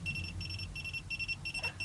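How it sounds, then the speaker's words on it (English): An SEC E9 key cutting machine gives a run of short, high electronic beeps in quick regular pulses over a low mechanical hum. "Oh, stop with your beeping."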